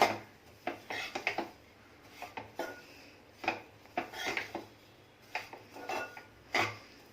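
Dried coconut is roasted for a minute or two on low heat in a pan, stirred with a utensil, for malai coconut laddoos. Soft scraping and light metallic clinks come in irregular bursts, close and quiet.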